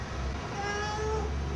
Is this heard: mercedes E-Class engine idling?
no